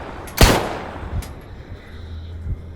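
Gunfire in the video game Stalker Gamma, one loud close shot followed by a few softer bursts and thuds spread over a couple of seconds.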